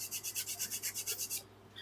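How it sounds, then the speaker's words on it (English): Hand sanding of a steel tumbler, a steady back-and-forth rasp of about a dozen even strokes, close and loud, then stopping abruptly. "Alright, so I also want to sand this."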